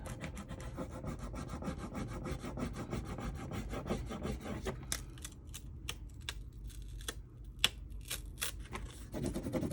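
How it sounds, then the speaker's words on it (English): Rub-on transfers being rubbed onto a vintage binder give a steady close dry rubbing and scraping texture, with sharper scratchy strokes and light taps in the second half. "When I see pieces not rubbed on, I'll give them a little rub."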